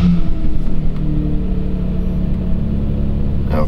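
A Kia car engine running close by: a steady low rumble that holds evenly throughout, with no speech.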